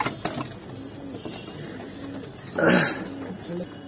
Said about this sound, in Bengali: দেখেন অনেক সুন্দর সুন্দর কবুতর আছে এখানে